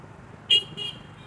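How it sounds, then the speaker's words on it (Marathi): Road traffic murmurs quietly in the background, then a nearby car horn gives two short honks in quick succession. "थोडं ट्रॅफिक आहे"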